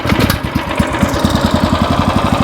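The small two-stroke engine of a four-year-old Echo SC-3013 wood chipper runs close by with a rapid, buzzing, putt-putt firing rhythm after a restart attempt.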